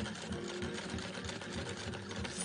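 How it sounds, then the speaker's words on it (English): An antique German sewing machine stitching while its bobbin winds at the same time, a steady close whirring hum with a fast rapid clatter running evenly throughout and no voices. "you can wind your bobbin here on the automatic bobbin winder at the same time that you're stitching"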